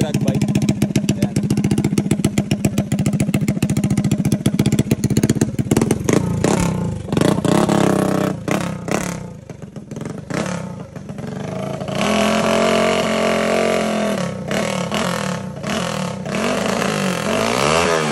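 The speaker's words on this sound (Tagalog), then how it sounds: "Yan ang base bike na yan na kinonvert sa drag bike." A Honda Wave 125 converted into a 147cc drag bike revs hard at close range, rattling and buzzing through rapid throttle blips before settling into a rougher, uneven idle, with someone talking over it.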